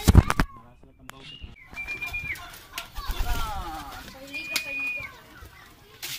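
Racing pigeons coo softly at close range with a brief flutter of wings, while people talk nearby throughout.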